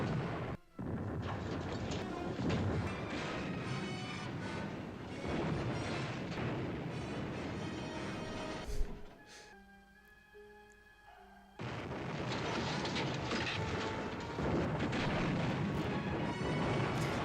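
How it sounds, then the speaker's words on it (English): Explosions boom in a 1957 war movie's submarine attack, dense rumbling blasts filling the scene, broken by a brief quieter tonal gap before heavy detonations resume, loud and sustained. "So many explosions,"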